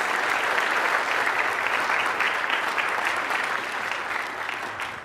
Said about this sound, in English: So one big round of applause again for everyone.